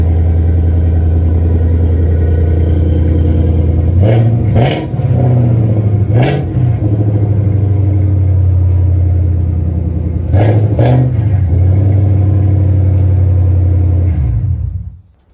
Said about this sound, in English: Rev a little. And then stop it.